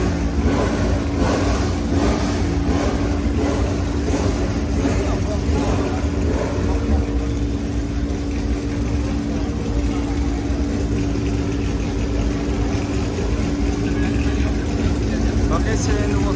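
An AMG Cup race car engine and exhaust rumble steadily up close, a loud continuous drone with rhythmic pulsing early on, while people talk over it.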